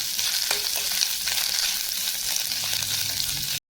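Coconut pieces fry in ghee with a steady, close sizzle and occasional stirring scrapes, continuous for a few seconds before cutting off abruptly.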